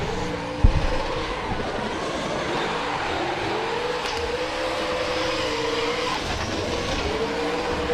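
A drift car competes at a Pure Drift event, heard as a continuous roar of engine and tires whose revs rise and fall. It plays steadily at moderate distance with no one talking.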